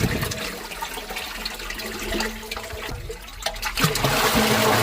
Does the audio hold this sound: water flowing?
yes